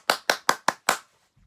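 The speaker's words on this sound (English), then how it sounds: "We will give clap to God" A church congregation claps for God in five sharp, evenly spaced claps, close and crisp, then falls quiet.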